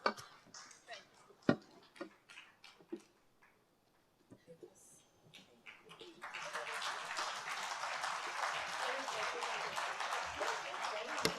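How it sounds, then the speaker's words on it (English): After scattered sharp taps and quiet pauses, an audience breaks into sustained, dense applause that continues steadily to the end. "can we get another big round of applause?"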